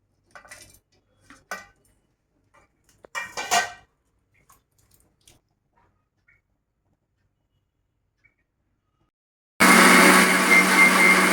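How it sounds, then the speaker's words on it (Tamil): Scattered soft clinks and taps of kitchenware, then a loud mixer grinder suddenly starts whirring steadily near the end, grinding spices for tomato sambar. "இப்போ இந்த தட்டில் இருக்கிற எல்லாத்தையும் நாம் ஒரு மிக்ஸி ஜாரில் அரைச்சிக்கலாம்."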